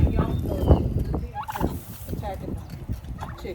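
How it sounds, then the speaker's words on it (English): Several turkeys on a winter homestead gobble and squabble while fighting among themselves and with chickens, a loud, continuous stretch of rattling gobbles and scuffling close by, with no talking. "I hear y'all turkeys."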